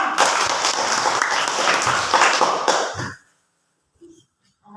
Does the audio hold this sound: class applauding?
yes